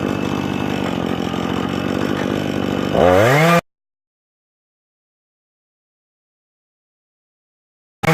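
Chainsaw on an Alaskan mill ripping lumber, running loud and steady for about three seconds before lugging down and cutting out, then silence and a brief restart at the end.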